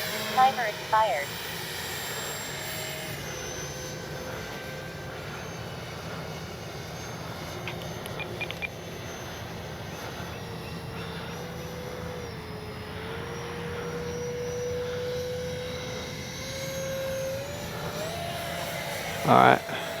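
FMS 64mm Rafale RC electric ducted fan jet on its maiden flight, a steady whooshing whine that rises and falls in pitch as it passes, with a few brief louder bumps near the start and end.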